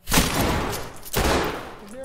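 Gunfire in the tactical shooter Ready or Not comes as two loud, close bursts of rapid shots, each trailing off into echoing decay, with no talk.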